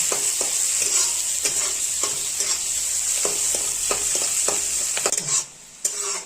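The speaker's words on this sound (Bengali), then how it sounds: "দেখতে পাচ্ছেন আমাদের পেঁয়াজটা এখন ভাজা হয়ে গেছে" Chopped onions fry in a pan with a bright, continuous sizzle, broken by repeated scraping stirs of a utensil at an irregular rhythm, close and loud, before the sizzle briefly drops away near the end.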